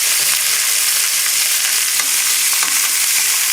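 Big chunks of garlic frying over a high flame for chicken legs with tomato and mushrooms, a loud, dense, unbroken sizzle with faint crackles, close and alone.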